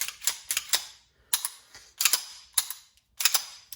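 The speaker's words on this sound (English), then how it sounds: "I like to cycle it a few times to get the oil in place" The slide of a CZ 75 Compact pistol is racked repeatedly, giving sharp metallic clacks in quick pairs and triplets, close and loud, with short pauses between cycles.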